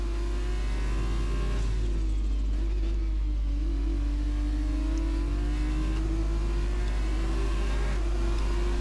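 A Formula 2 race car on soft tyres runs a qualifying lap at Abu Dhabi, its engine a loud, sustained high-pitched drone that slowly rises and dips in pitch without a break.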